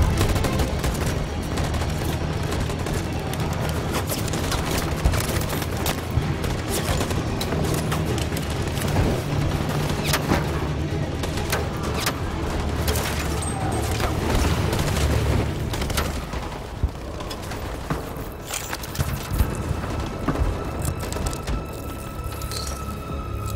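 Sustained gunfire fills a scene in the video game Detroit: Become Human, a loud continuous volley of rapid shots and booms running for over twenty seconds before thinning out near the end.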